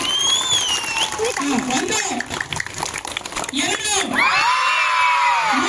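A street-play audience outdoors claps and cheers in a noisy, continuous burst, with shrill whoops and whistles rising over the clatter while nearby voices call out.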